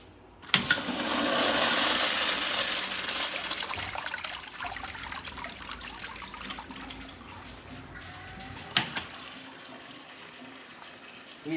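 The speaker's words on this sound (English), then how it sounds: "So let's flush the urinals first." Urinals flushing in a church men's bathroom, a sharp click followed by a rush of water that fades into trickling, then a second click and brief gush later, close in a quiet tiled room.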